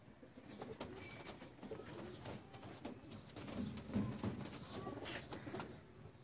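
A breeder pair of pigeons coos softly and repeatedly in a loft, with faint rustles and clicks around them and distant background sounds.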